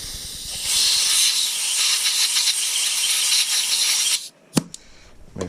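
An air hose blasts a steady loud hiss into a freshly tapped threaded hole in an LS/VTEC engine block for about three and a half seconds, then cuts off, followed by a couple of small metallic clicks.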